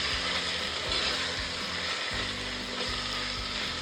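Chicken pieces sauté in a hot pan for Dindigul Thalappakatti-style biryani, giving a steady, close sizzle with scraping stirs and bumps throughout and no talking.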